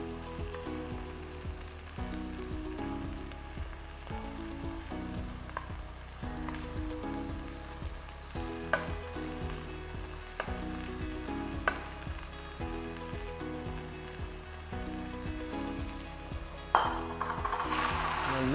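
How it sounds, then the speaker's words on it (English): Curd and spice mixture sizzles steadily with lamb in a pan for Mughlai nalli nihari, a dense continuous frying hiss with occasional stirring scrapes, close and without talk. "I'll add this curd and spice mixture to the lamb."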